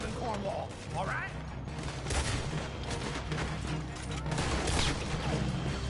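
Gunfire in Red Dead Redemption 2 during a robbery shootout, dense overlapping shots and mechanical clicks under game sound and background chatter, loud and continuous throughout.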